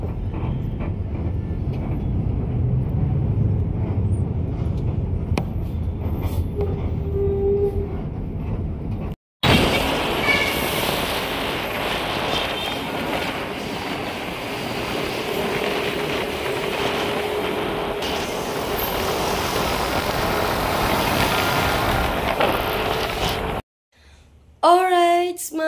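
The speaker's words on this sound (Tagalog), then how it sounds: "Sobrang traffic." Heavy road traffic on a busy Philippine road, a steady loud roar of engines and passing vehicles lasting most of the clip, broken by a brief cut near the end.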